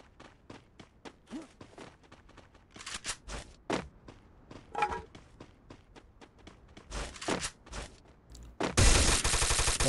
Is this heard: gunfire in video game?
yes